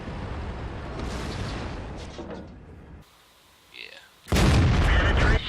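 Booming shots from a 107mm tank gun in a World of Tanks-style video game, with loud rumbling blasts, a quieter gap, then another heavy boom at the end, with a voice talking.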